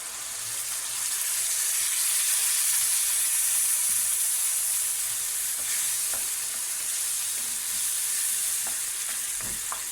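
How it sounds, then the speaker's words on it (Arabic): Browned onion fries in oil in a pan as tomatoes go in, giving a steady loud sizzle and hiss with occasional stirring scrapes and clicks, no talking. "هنا البصله بتاعتنا احمرت اهي، ننزل بيها بقى بشويه الطماطم"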